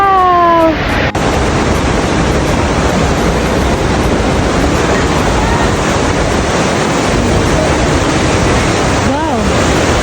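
Hidden Falls in Grand Teton, a roughly 100-foot snowmelt-fed waterfall dropping over rocky cliffs, roars as a loud, steady, broadband rush close by, with a brief voice at the start and faint wind buffeting.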